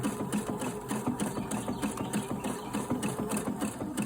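A sewing machine stitches a fabric side seam on homemade underwear. Its needle chatters in a fast, even mechanical rhythm, close and continuous, with no talking.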